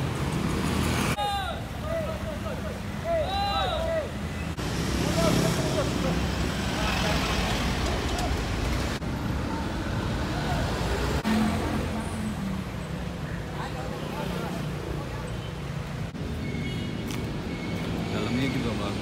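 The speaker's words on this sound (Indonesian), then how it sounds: "Ini dia busnya Abadi Baru." An Abadi Baru city bus moves through busy Jakarta traffic, with engine rumble and road noise holding steady throughout and voices chattering in the background.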